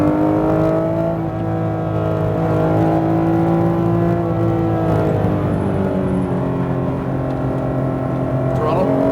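A Porsche GT3RS race car accelerates on a Las Vegas track, its engine a loud, sustained close whine that climbs and shifts pitch through the gears.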